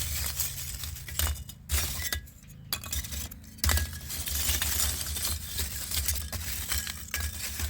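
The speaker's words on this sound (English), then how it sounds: "Good biochar is very clinky, like glass, and should break easily and be light." Light, brittle biochar pieces clinking and cracking like glass, with repeated close, sharp chinks and breaks scattered through the clip against a low background hum, no talking.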